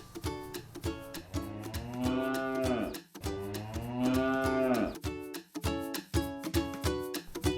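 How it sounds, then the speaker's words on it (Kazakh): A cow moos in two long, drawn-out calls, with shorter lowing sounds around them. "сиыр мө деп өңірейді"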